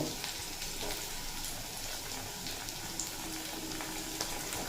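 Tomato and drumstick pieces cooking in a pan for a fish curry, a steady dense sizzle and hiss that holds evenly throughout without pause.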